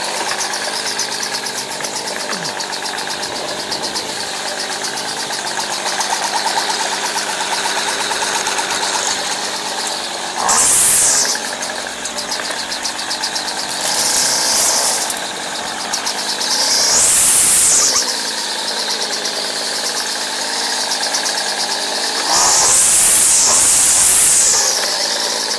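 A Craftsman 25cc 17-inch string trimmer engine runs steadily nearby, a high buzzing two-stroke drone broken by several short bursts of revving as the throttle is opened.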